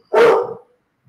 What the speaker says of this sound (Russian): Вот собака возмущается по этому поводу